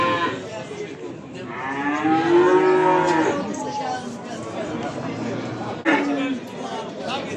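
Calves bound for fattening mooing at a crowded livestock bazaar, one long loud drawn-out moo up close followed by a shorter one, with crowd chatter throughout.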